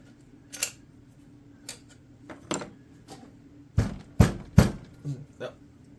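Part of a McCulloch 790 chainsaw being pried loose during a teardown, with sharp metallic clicks and knocks scattered irregularly, closest and loudest as three hard snaps near the end.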